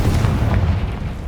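A Confringo fire spell in Hogwarts Legacy bursts with a deep, booming explosion that rolls out into a low rumble, loud and close, with no talk.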